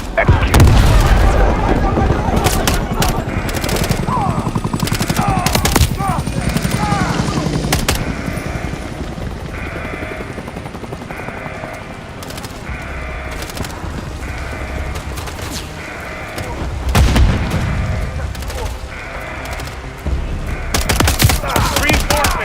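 Breaching charge blast followed by sustained automatic gunfire and explosions in the Modern Warfare 3 video game, loud and continuous with bursts of fire throughout, while radio voices talk over the combat.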